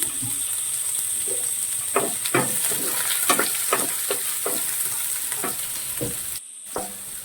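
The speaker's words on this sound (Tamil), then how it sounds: "நல்லா கலக்கலாம் வெங்காயம்" Onion frying in a pan for a banana stem stir-fry, stirred with a ladle. A steady sizzle carries a run of rhythmic scraping strokes, then breaks off briefly near the end, with no talking.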